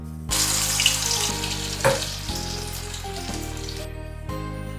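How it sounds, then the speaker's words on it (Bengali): Sweet corn pakoras deep fry in hot oil with a steady, close sizzle and crackle, carrying on throughout alone over a low background hum. "এইভাবেই আমি সমস্ত পকোড়াগুলো ভেজে নিচ্ছি"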